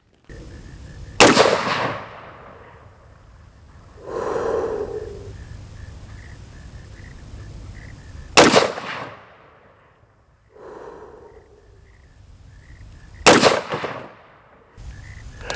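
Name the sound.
gunshots from an AR-15 pistol with a Sig Romeo 5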